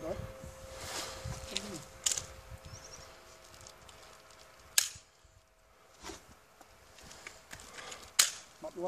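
Pistol shots ring out at an outdoor shooting range: about four sharp, spaced cracks stand out over quiet background noise, with people talking faintly between them.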